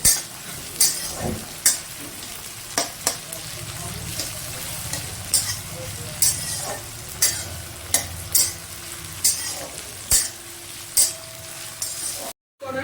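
Marinated chicken fries in a kadai with a continuous sizzle, punctuated by sharp utensil scrapes and clinks from stirring at irregular intervals, close and moderately loud.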